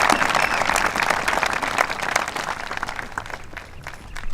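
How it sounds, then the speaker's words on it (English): A crowd at an outdoor Memorial Day ceremony in Los Angeles applauds without a break, thick overlapping clapping honoring a decorated veteran and his family, easing slightly toward the end. "Please, let's applaud this man too."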